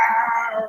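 A man imitates a lion's growl with a sustained, drawn-out voiced rumble that sounds more like a howl, loud and close, lasting under a second.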